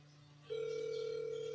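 A phone call ringing held close to the microphone, a steady electronic tone starting after a brief low hum and holding loud and continuous.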